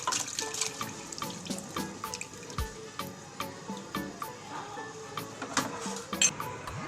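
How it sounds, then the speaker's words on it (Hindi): Cow's milk pours into a pan for rasmalai, making a steady, close liquid splashing and gurgling with small drip-like taps throughout, without any talk. "और आधा हम ये डालेंगे गाय का दूध।"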